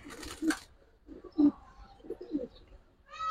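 Soft, low cooing of pigeons close by, several throaty coos spaced across the clip, fairly quiet. Giribaz and high-flyer racer pigeons.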